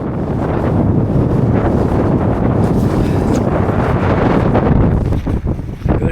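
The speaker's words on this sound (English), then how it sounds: "Gotta get out of the wind" Cold, strong wind buffets the microphone outdoors in remote backcountry, a loud, continuous roaring rumble that never lets up for about six seconds, with no voices.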